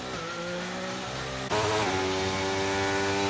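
Race cars passing in the F1 2023 video game at the Canadian circuit, high engine whine rising sharply as a car surges past midway, loud and continuous with steady revving tones.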